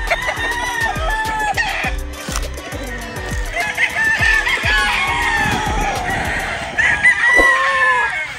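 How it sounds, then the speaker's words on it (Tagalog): Gamecock broodcock roosters crow loudly nearby at a farm, several overlapping cock-a-doodle-doos mixed with steady clucking from fowl throughout. "Itong dalawang broodcock na to, ito yung mga original na ginamit ni Boss Jepoy Pudsalan."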